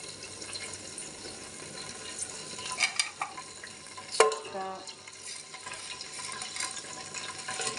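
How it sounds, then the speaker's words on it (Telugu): Two bay leaves dropped into heated oil for chicken biryani: a soft, steady sizzle and light stirring clatter with a sharp clink midway, close and fairly quiet, no talk. "సరిపడా నూనె వేసుకున్న తర్వాత ఇలా వేడెక్కిన తర్వాత 2 బిర్యానీ ఆకులు వేస్తానండి"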